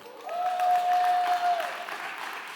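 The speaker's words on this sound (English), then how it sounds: "Clap it up." An audience claps at a hip-hop 50th anniversary event, a moderate, fairly even wash of applause with a faint steady tone running beneath it for a while.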